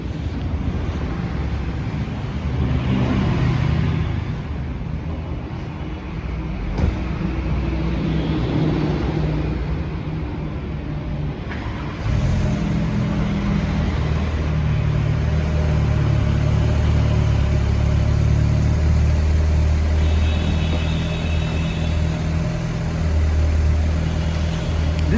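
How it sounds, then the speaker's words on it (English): A Skoda Octavia vRS with a cat-back exhaust fires up from cold, a deep steady engine rumble that rises partway through and settles into a continuous idle, heard close and alone. "Well, I guess it's time for a cold start."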